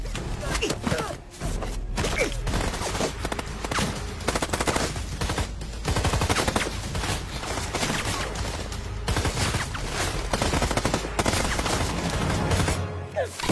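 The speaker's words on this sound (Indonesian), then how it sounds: "dia kembali bangkit dan menembaki mereka satu persatu" Gunfire in an action film, dense bursts of rapid shots and machine-gun volleys crackling almost nonstop, loud and close, with brief gaps between the bursts.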